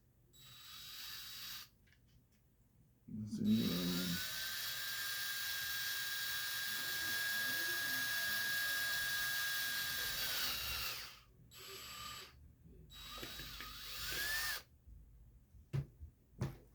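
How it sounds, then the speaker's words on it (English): A power drill bores a hole, spinning up after a brief thump and running steadily at a whining pitch for about seven seconds, then stopping, followed by a few short clunks and handling noises. "Yeah, let's drill the hole in here on this side."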